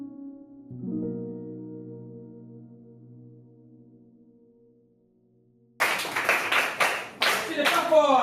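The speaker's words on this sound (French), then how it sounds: "alors applaudissez une fois encore" A group claps in a burst of loud, sharp, fast claps near the end after a quieter stretch with a sustained tone and a voice, ending in voices over the clapping.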